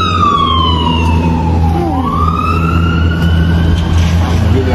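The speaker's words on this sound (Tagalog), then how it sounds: "Fire truck." A loud fire truck siren wails close by, its pitch sweeping down and then back up over a steady rumble of engine and traffic.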